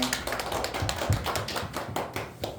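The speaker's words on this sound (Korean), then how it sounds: "박수하겠습니다." A congregation claps together after the closing blessing of a Sunday church service, a fairly quiet run of rhythmic hand claps with no talking.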